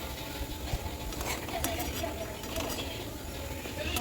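Banana fritters are lifted out of hot frying oil with a metal utensil: quiet scraping and clinking against the pan over a faint, steady sizzle, close up and soft.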